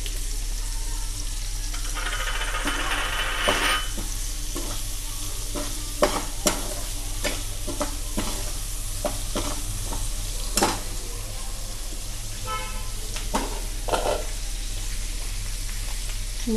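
Mutton with spices stirred in a frying pan, a constant close sizzle broken by scraping and clinking from a utensil against the pan, no voices.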